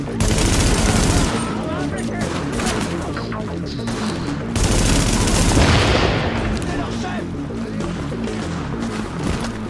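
Sustained gunfire from The Division video game, dense bursts and rapid volleys filling the whole stretch with two loud surges, booming impacts mixed in.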